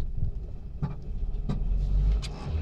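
A car engine rumbles steadily at idle and rises in a low revving swell as gas is applied, close and loud with a few sharp pops along the way.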